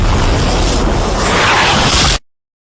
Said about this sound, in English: Suddenly, there was the sound of guns from the trees.